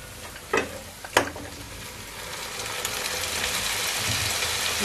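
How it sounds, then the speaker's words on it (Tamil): Mutton sautéing in a pan for a ghee roast, a couple of sharp clacks as pieces go in, then a steady sizzling hiss that grows louder and fills the background. "மட்டன் சேர்த்து நல்லா வதக்கிக்கோங்க"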